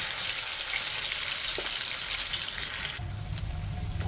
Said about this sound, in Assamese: পনীৰখিনি মোৰ ভজা হৈ গৈছে।